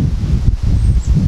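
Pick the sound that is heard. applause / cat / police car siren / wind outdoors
wind outdoors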